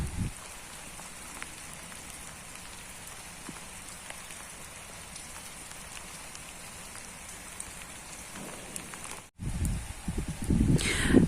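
Steady rain patters on garden plants and flowering irises at a dacha in late May, a continuous close hiss with a brief break and louder splashing near the end.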